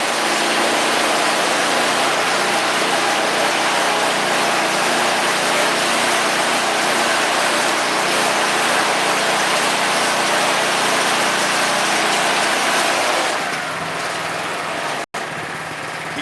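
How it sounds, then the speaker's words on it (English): A Honda HSS928AT snowblower engine runs loud and steady close by, a continuous buzzing roar that drops to a quieter idle near the end. "Just make sure the engine stays running."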